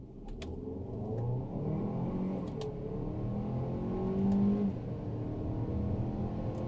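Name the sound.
Kia Sorento accelerating to highway speed in sport mode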